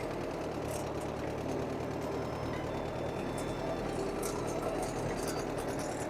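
An old tractor engine idles and chugs steadily close by, a low rattling drone that continues without pause.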